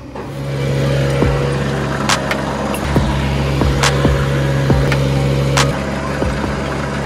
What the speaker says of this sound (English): It's really loud, but that's kind of the trencher we got going.